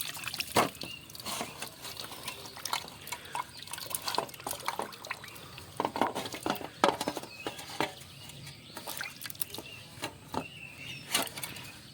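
Papaya being washed under water, with irregular splashing, trickling and dripping, plus small handling knocks, close and moderately loud in a home kitchen.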